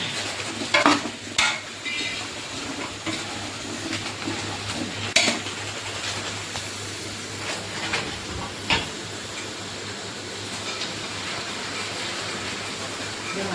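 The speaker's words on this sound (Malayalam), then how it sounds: "പത്ത് മിനിറ്റ് നേരെ ഇളക്കേണ്ടി വരും ഞാനൊന്ന് ഇച്ചിരി സമയം ഇളക്കി കൊടുക്കാം" Vegetable kurma being stirred in a pan, with a few scraping clinks of the spoon against the metal over a steady low sizzle and hiss throughout, close and moderately loud.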